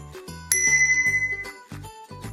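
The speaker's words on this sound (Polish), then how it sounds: "Posiada regulowaną kierownicę z dzwoneczkiem." A small bell on the adjustable handlebar of a Kidz Motion Tobi Pro children's tricycle rings with a bright, sustained ding, followed by several softer clicking taps nearby with no talking.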